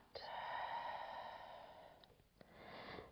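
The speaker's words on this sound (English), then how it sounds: "Breathing out." A slow, steady exhale during a full-body stretching routine, heard as a soft, close breath that swells and fades over about two seconds, followed by quiet room tone.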